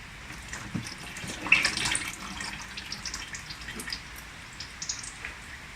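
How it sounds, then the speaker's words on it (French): Engine oil trickling out of the drain of a Citroen C1 / Peugeot 107 / Toyota Aygo 1.0 68 hp during an oil change, a faint soft splashing patter that is continuous and heard alone. "De l'huile va couler un petit peu, attention."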